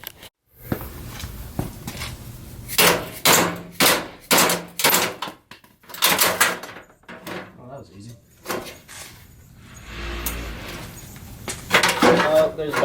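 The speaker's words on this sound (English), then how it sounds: "So I'm gonna have to mallet the shit out of it right now." Mallet blows on rusted bolts holding a Lexus IS300 fender, a series of loud sharp knocks in uneven bursts with short pauses between them, close by.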